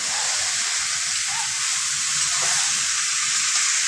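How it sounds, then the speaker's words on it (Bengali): Chopped ash gourd hits hot oil in a pan and sizzles loudly and steadily, a dense bright hiss with faint stirring scrapes underneath, close up and without talk. "তেল গরম হয়ে গেছে, এখন আমি চাল কুমড়ো যেটাকে আমি কেটে রেখেছিলাম কুচি কুচি করে সেটাকে আমি দিয়ে দিলাম।"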